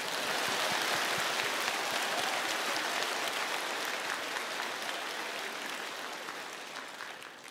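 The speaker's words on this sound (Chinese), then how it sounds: "让我们用热烈的掌声来欢迎 Zhang 牧师。" A church congregation gives a pastor warm applause as he comes to the stage: a thick, sustained wash of many hands clapping that fades slightly toward the end, with no voices heard.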